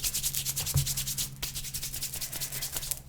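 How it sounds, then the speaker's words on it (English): Hands rubbing briskly against the back of a hand, a close, soft swishing friction repeated in quick, even strokes for about three seconds. "Rub. Back of your hand."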